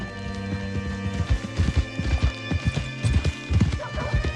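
Horse hooves clip-clop in steady rhythm in the video game Red Dead Redemption II, close and clear over a sustained background music bed.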